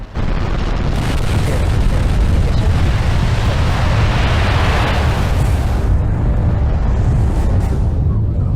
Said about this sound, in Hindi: T-3 सेकंड्स पर 9 Merlin engines first stage ignite होते हैं।